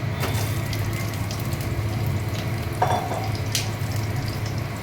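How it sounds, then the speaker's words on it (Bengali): Sliced pointed gourd (potol) frying in a pan over a lowered gas flame, giving a continuous loud, close sizzle with a couple of brief clinks, no voices. "পটল ভাজা হচ্ছে"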